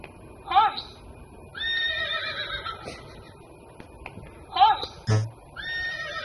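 A horse whinnies twice in clear, shrill, quavering bursts, several seconds apart, over a faint background, with brief soft clip-clop sounds and other short animal calls mixed in.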